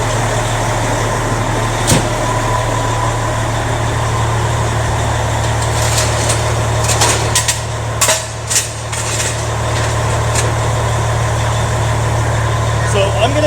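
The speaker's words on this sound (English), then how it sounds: "I'm going to step out of the vehicle as it's running" A parked truck rig idles in a steady, loud, low diesel drone that continues throughout, with a few faint knocks and rattles on top.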